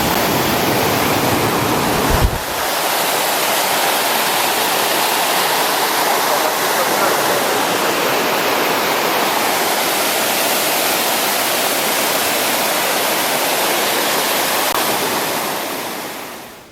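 A tall 174-metre waterfall on the Routeburn Track pours with a loud, steady roar of rushing water, dense and unbroken, with a brief thump near the start.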